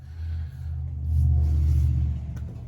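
A 1932 Ford Model B engine idles steadily outdoors while warming up, a deep low rumble that swells slightly in the middle and stays continuous throughout, with no talking.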